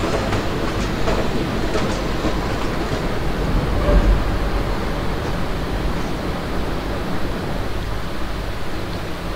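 A passenger train rolls along an Indian Railways route in the MSTS Open Rails simulator between Bhusaval and Katni, a loud, steady rumble with faint rhythmic clatter throughout and no clear change as the brakes are applied.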